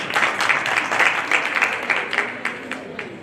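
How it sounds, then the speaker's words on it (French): A small group claps for a few seconds during a quiz, a scattered round of applause that slowly fades. "bravo, on applaudit"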